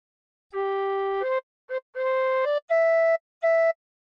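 Tin whistle playing a short phrase of Incy Wincy Spider: six clean, breathy notes, the first held long, then a quick blip, a sustained note with a slide, and two higher repeated tones, alone and close.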